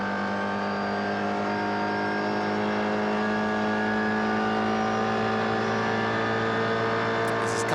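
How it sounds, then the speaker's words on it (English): A TC Canada class race car accelerates hard up the Andretti straightaway at Canadian Tire Motorsport Park, its engine note droning loud and climbing steadily in pitch from an onboard position during a sprint race. "Now we'll listen as he heads up the Andretti straightaway."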